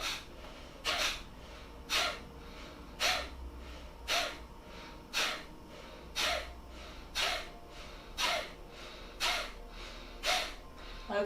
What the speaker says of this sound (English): even blowing our nose into our hand like this